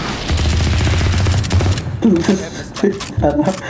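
Rapid gunfire in a video game, shots hitting a wall in a fast rattling burst for the first two seconds, followed by people talking over quieter mechanical clicks.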